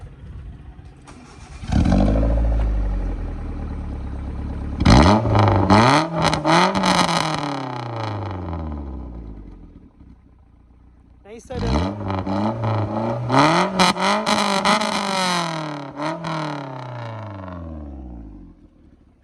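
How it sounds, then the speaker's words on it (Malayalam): A Maruti Zen fitted with a swapped 1.3 engine and a custom stainless steel exhaust with no headers starts up, idles, then revs hard in two loud, rising bursts, close by, with a brief spoken word at the start. "ഹെഡേഴ്സ് ഇല്ല, അല്ലാതെ ഒരു കസ്റ്റം സ്റ്റെയിൻലെസ് സ്റ്റീൽ എക്സോസ്റ്റ് ചെയ്തിട്ടുണ്ട്. അത് സ്റ്റാർട്ട് ചെയ്ത് കാണിച്ചു തരാം."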